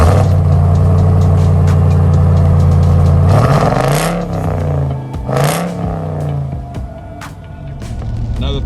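A 2021 Ram TRX truck's engine and exhaust give a low, guttural growl, a steady idle rising into a couple of revving swells before settling back, heard close and moderately loud.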